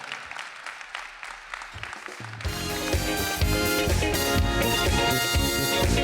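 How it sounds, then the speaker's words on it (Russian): Studio audience applauding at a televised music show as a mentor is introduced, starting after a quieter stretch and swelling into sustained loud clapping that continues to the end. "Под ваши аплодисменты."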